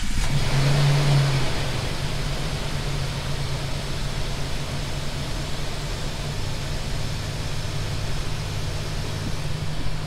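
A Jeep engine catches with a brief loud burst at startup, then settles into a steady, close idle drone with a broadband whooshing hiss, running alone with no talk.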